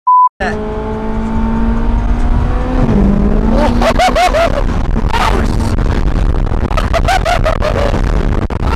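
A McLaren accelerates hard onto a freeway, its engine climbing loudly through the gears with sharp rising whines and rapid shifts, heard up close from inside the car. A voice talks briefly in the background.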